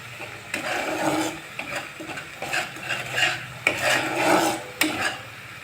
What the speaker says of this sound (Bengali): সব মশলাগুলো একসঙ্গে খুব ভালো করে কষিয়ে নেব।